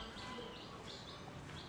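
Birds inside a home garage, faint repeated chirps and tweets over a quiet, steady background hum, several short calls spread across the moment.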